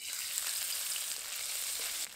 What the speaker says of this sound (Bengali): আবারও কড়াইতে কিছুটা পরিমাণ সর্ষের তেল দেব। তেলের মধ্যে নারকেল দিয়ে ভেজে নেব।